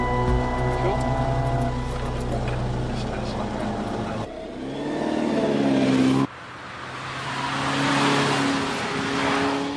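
Supercar engine on a driving course, a strong revving drone that climbs and shifts, with cabin road noise and an abrupt cut to a brighter rush of wind and tyres; a voice talks over part of it.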